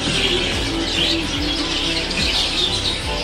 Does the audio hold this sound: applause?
no